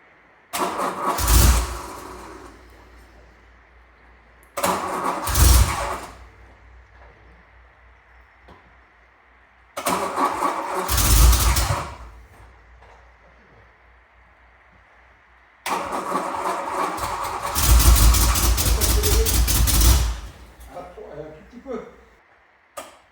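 A Renault Alpine engine cranks and catches four times, each start a loud burst of revving that settles briefly, the last one running longer before cutting out, with quiet gaps between attempts.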